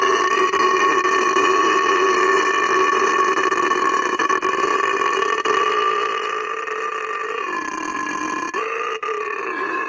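A voice imitates a little kid burping, producing a long, drawn-out, tonal belch that holds steady for several seconds before wavering and trailing off, loud and close.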